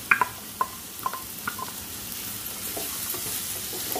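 Onion, tomato and chana dal frying in a pan for ridge gourd bhaji, a few quick spatula clinks and scrapes at first, then a soft steady sizzle, close with no talk.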